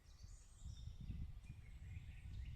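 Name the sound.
birds singing in forest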